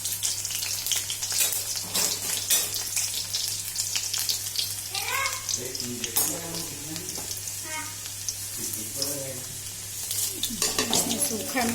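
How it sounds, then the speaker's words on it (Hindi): Garlic sizzles in hot oil in a pan, a faint, steady frying hiss broken by scraping stirs, while someone talks quietly over it. "इसमें मैं लहसुन को डाल दी हूँ। थोड़ा सा ब्राउन हो जाएगा"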